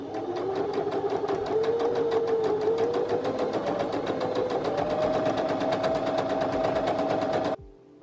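A sewing machine stitches down the length of folded fabric dress straps in a steady, rapid mechanical run with a rising motor whine, stopping abruptly near the end.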